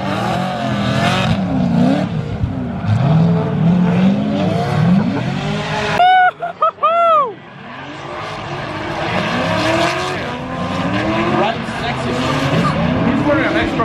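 A race car at the GRIDLIFE South track event revs and roars past at close range, its engine note rising and falling through gear changes, with someone talking over the noise.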